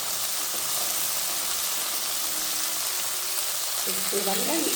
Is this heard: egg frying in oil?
yes